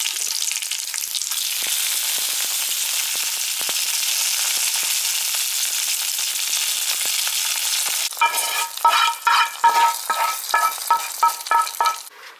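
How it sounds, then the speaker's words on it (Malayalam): Mustard seeds and green chili tempering in hot oil for a Kerala pumpkin erissery: a steady, close sizzle that turns into a burst of sharp, irregular popping crackles near the end. "തിള വരുമ്പോൾ നമുക്ക് ഒരു വറയൽ പൊട്ടിച്ച് ഇതിലേക്ക് ഇടണം"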